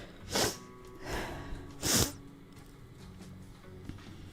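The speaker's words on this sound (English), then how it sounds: "Sorry, I don't know what the sniffles are from." Three quick, close sniffs or snorts spaced about a second apart, then quiet room background.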